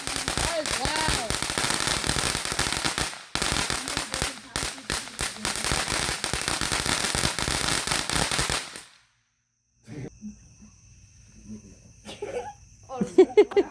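Fireworks and firecrackers burst at a family birthday party, a dense loud crackling barrage for about nine seconds with brief gaps, then a sudden stop followed by quieter scattered pops and faint voices nearby.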